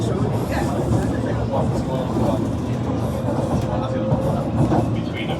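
A London Underground 1938 stock train runs along the line with a continuous loud rumble and rattle, heard from inside the carriage, with some clatter over the steady roar.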